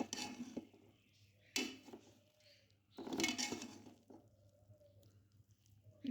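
A spoon scrapes and clinks through cooked matar gajar pulao (rice with peas and carrots) in a pot, in a few separate close bursts of scraping and rustling with quiet pauses between them.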